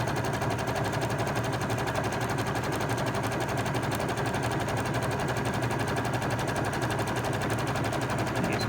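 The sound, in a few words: sewing machine stitching a zigzag along a fabric edge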